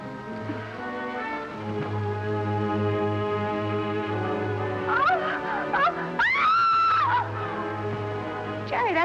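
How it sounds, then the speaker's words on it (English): A woman's high scream rises and wavers over a dramatic orchestral score, a brief shriek standing out partway through before the music carries on. "that scream, did you hear it?"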